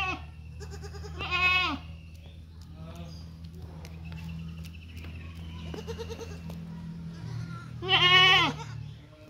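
A goat with a swollen, infected udder (mastitis) lets out two loud, close bleats several seconds apart, with quieter talk and farmyard noise between them.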